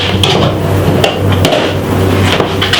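Rum cake batter for a Jamaican Christmas black rum cake being whisked in a bowl, giving a steady scraping churn with sharp clinks of the whisk against the bowl at irregular intervals, close and fairly loud, with no talking.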